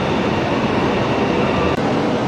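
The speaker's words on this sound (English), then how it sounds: "And our train has just arrived." A loud, steady rumble of a train arriving at a station in China fills the space, a dense rolling roar with no clear voices over it.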